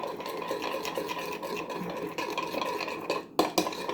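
A spoon stirs tahini salad dressing in a small container, making continuous soft wet scraping and clinking strokes up close, with a brief pause and a sharper clack near the end.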